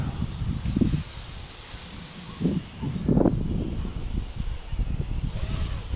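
Steady wind gusting outdoors while a small i-Drone i3S quadcopter with 7mm motors and prop guards flies nearby, a broad continuous rush with low buffeting bursts throughout.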